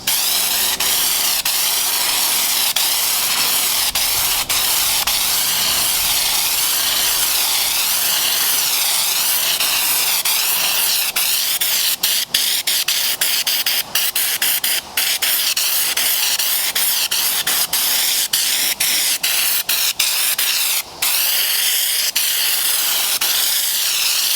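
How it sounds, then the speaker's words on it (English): Raptor bedliner is sprayed from a spray gun onto foam Halloween tombstones and wood, a loud, unbroken hissing blast that runs on for over twenty seconds with only brief momentary breaks near the end. "We're gonna shoot right on top of the wood and the tombstone itself on the foam."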